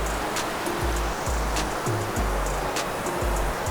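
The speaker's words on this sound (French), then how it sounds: "Allez, la cascade." A mountain waterfall beside a trail roars as a steady, broadband rush of water, close and loud, with faint low thumps from footsteps running over it.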